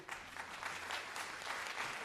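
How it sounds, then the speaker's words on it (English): An audience at an on-stage event claps, a dense, faint round of applause that carries on evenly for a couple of seconds. "Let's give Hansen Hossein a big round of applause."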